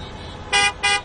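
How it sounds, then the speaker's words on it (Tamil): Two loud car horn blasts sound close by, each held for about a fifth of a second with a short gap between them, over low traffic noise. "ஹார்ன் அடிக்க ஆரம்பிச்சிட்டாங்க."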